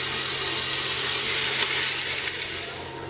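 Hamburger and Italian sausage browning in a pot, a loud continuous sizzle and crackle of frying meat that holds steady, then eases slightly toward the end.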